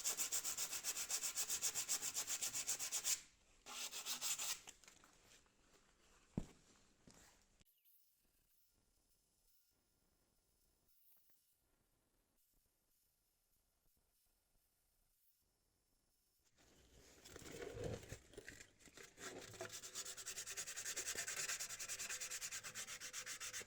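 Abrasive rubbing as exhaust mating surfaces are cleaned on a BMW E36 318is, a steady loud scraping that stops for about ten seconds of near silence, then resumes, rising back to a continuous gritty rasp.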